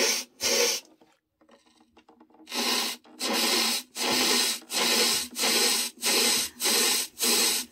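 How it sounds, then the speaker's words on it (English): A metal blade scrapes the wooden wheel of a hurdy-gurdy, taking off the high spots: about eight rhythmic rasping strokes, close and loud, with a short pause of quieter scratching near the start. "The point is to scrape off just the highest bits of the wheel."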